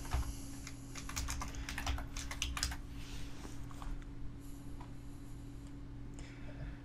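Quick keystrokes tap on a computer keyboard in a fast burst that thins out into sparse clicks, all fairly quiet over a steady low electrical hum with no one talking.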